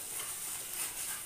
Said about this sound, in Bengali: এবার দেখে নেব মাংসটা কতটুকু ভাজা হলো